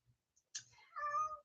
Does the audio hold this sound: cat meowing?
yes